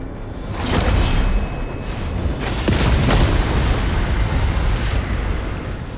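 Fire and explosions in the video game Genshin Impact, deep rumbling booms and rushing whooshes over a constant roaring bed, loud and layered.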